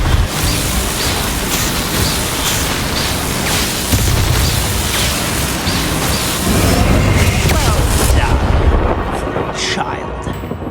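A Bombarda explosion spell goes off in the video game Hogwarts Legacy, a loud booming blast with rumbling noise, amid continuous battle sounds and voices.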